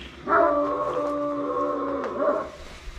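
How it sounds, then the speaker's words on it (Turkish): A dog howls in a long, wavering tone lasting a couple of seconds, moderately close, with no talking. "Bu köpek sürekli bağırıyor da."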